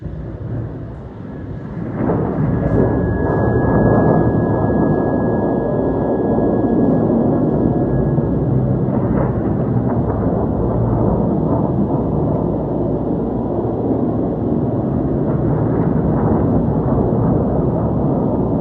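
Missile attacks with explosions, one after another, heard as a loud, sustained roaring rumble with deep booming weight and no clear separate blasts, and no voices over it.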